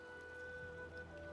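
Steady rain falls in the Arknights Endfield video game, a soft continuous patter on surfaces under faint tonal game music, with no talking.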